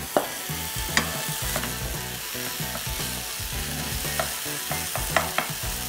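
Ground beef frying and sizzling in a pan with added butter while being stirred, a steady loud crackle with scraping utensil strokes and occasional knocks, no talking.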